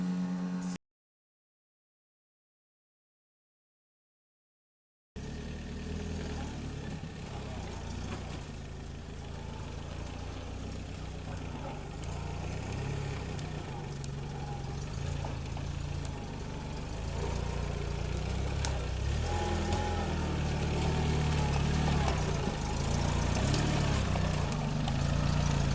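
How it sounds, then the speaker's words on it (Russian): A Nissan Marine outboard boat motor runs on a river in Komi, a steady close engine drone that starts after a brief silence and grows slightly louder, with no talking. "Nissan Marine, лодочный мотор."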